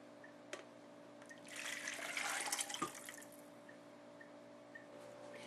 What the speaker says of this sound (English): Using a measuring cup, we will now empty the liquid from the pressure cooker.